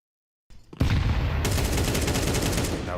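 AK rifle fire in Counter-Strike 2, a loud, close, sustained stream of rapid shots starting after a brief silence and continuing steadily to the end.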